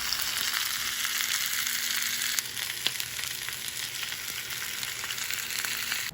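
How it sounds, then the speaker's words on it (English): Grouper cheek frying in a pan gives a steady, close, crackling sizzle that holds throughout, with a couple of faint clicks and no talking. "And there's the cheek frying up nice."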